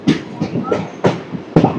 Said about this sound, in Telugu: మన ట్రైన్ చిత్తూరు కూడా వచ్చేసింది